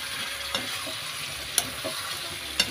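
Chicken is being slow-fried into kosha in a pan, giving a steady loud sizzle. A few sharp ladle scrapes and taps land roughly once a second.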